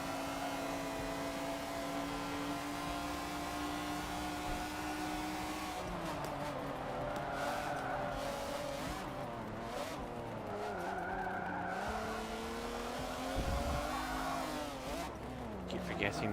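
Race car engines drone and climb through gears in Forza Motorsport 7 during an S class online lobby race, with tyres skidding and squealing repeatedly through the turns, loud and continuous with shifting pitch.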